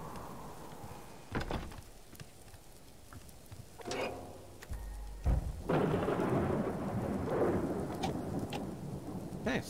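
Thunderstorm in the survival video game Subsistence, with steady rain pattering on surfaces and several deep thunder rumbles and cracks rolling through, fairly loud and with no talking.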